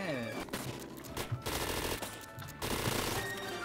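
Rapid gunfire in CS:GO, dense continuous bursts of automatic shots close and loud, with brief gaps, under faint talk.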